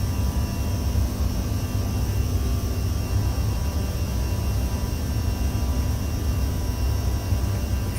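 A steady, even roar from a CRJ 700 regional jet climbing after takeoff in X-Plane 11, a constant broadband engine and airflow hum with no talk over it.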